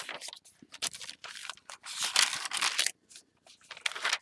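Crisp paper crinkling and rustling up close in irregular bursts, with brief quiet gaps between handlings.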